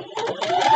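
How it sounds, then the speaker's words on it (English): A sewing machine stitches quilt block pieces for a mini nine-patch block with stripes, a short close burst of rapid rhythmic needle clatter. "now I can go back to sewing"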